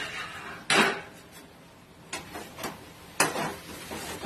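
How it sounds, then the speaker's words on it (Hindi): Spoon clanking against a pot while red chili powder is stirred into a cooking vegetable curry, a handful of separate metallic knocks and scrapes, close but quiet, no voices. "अब इसको भी हम अच्छी तरीके से चला चला कर जो है मिला लेंगे"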